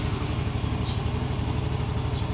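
A Yamaha Mio Fino scooter engine running after a keyless push-button start, a steady close mid-pitched idle putter with an even rhythm and no voices.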